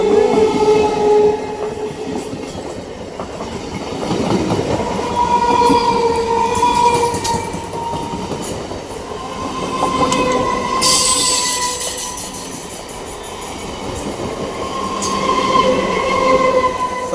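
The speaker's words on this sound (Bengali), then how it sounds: "দেখতে পাচ্ছ ওই ট্রেন যাচ্ছে ট্রেন" A train rolls past nearby, with rumbling wheels, clattering over the rails and high metallic squeals rising and fading over several seconds.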